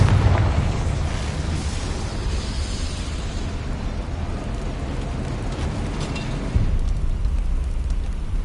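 Confringo blasting curse explosions in Hogwarts Legacy, a dense, loud rumble of booming bursts that runs the whole stretch, with a fresh heavy blast near the end.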